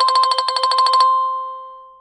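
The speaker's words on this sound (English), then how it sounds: "You can see it's ringing." A live chat notification on a Google Sites page rings as a rapid, bright electronic trill repeating for about a second, then a steady tone fading out, clear and alone.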